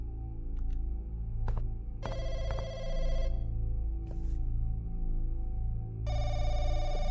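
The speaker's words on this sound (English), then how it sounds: "It's the phone in the public phone market." Public payphone ringing in a Chinese horror video game set in a remote mountain village, with repeated bursts of an electronic bell ring separated by pauses over a low ambient hum, with no talk.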